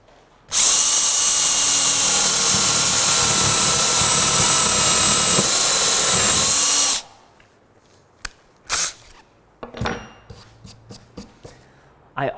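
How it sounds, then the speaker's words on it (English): A power drill bores a hole through a piece of wood for a marshmallow catapult, one loud unbroken high whine lasting about six seconds, then stopping and giving way to quiet handling clatter and knocks. "when this drill bit comes through, it has a tendency to want to blow out the fibers"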